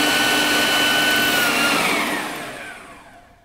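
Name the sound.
food processor whizzing cheesecake filling with honey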